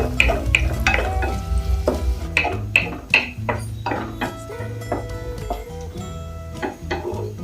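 Onions frying in a pan at home, with repeated stirring clatter and a sizzle under steady tonal background sound, no talk.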